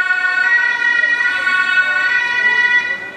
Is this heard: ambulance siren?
yes